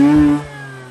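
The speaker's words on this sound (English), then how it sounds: "But I do want to kind of like rev it up" A Mazda RX-8 rotary engine revving briefly while being cleared after flooding, with a loud, close engine note that rises and then settles back to a steady hum.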